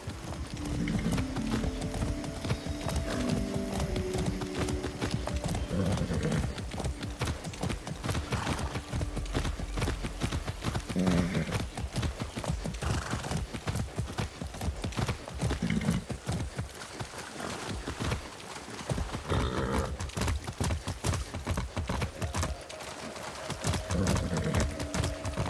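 Hooves clip-clop in a steady galloping rhythm as a horse is ridden in the video game Far Cry 6, with occasional neighs and a soundtrack humming underneath, close and continuous.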